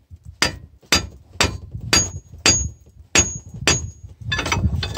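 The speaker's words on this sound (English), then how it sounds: "just set my half inch long extension bar on a flange like that, and yeah, let's tap it" A hammer strikes a half-inch extension bar set against a flange on a Nissan Titan's 4x4 system, giving about eight sharp metallic taps at a steady pace, loud and close, with rattling at the end.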